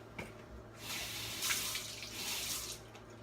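Water runs from a kitchen tap as something is rinsed beneath it, a steady splashing hiss that swells after a brief start and holds close and continuous for a few seconds with no talking.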